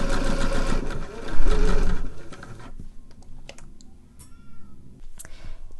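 A sewing machine stitches a waistband onto the top edge of a pair of trousers, running in a fast, dense burr for about two and a half seconds, then stopping, leaving only faint clicks and quiet handling noises.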